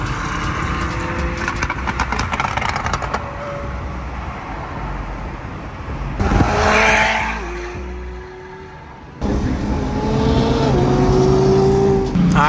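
A Nissan R35 GTR with a flame-tune exhaust revs loudly, sharp bursts and roaring blips broken by a drop to quieter idle, then the heavy engine roar returns close by.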